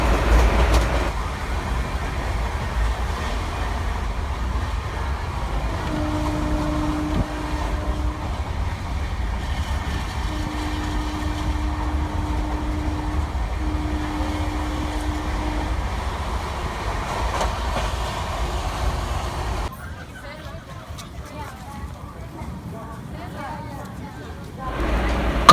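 Passenger train bound from Perambur toward Ernakulam via Salem, giving a steady rumbling run over the rails with broad, even noise throughout; a few brief tones sound midway, and the rumble eases and thins near the end.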